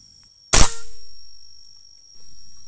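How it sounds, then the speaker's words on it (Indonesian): A single sharp air rifle shot fired at a stone target, close and loud, with a short ringing decay and quiet background before and after. "Lalu kita tembak batu ini apakah masih nitik di palang ya."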